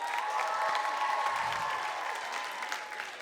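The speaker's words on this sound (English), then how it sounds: "Can we get another round of applause for Mr. Page?" Sustained applause from a seated audience at a 2022 student leadership conference, a dense, even wash of clapping that fades only slightly toward the end.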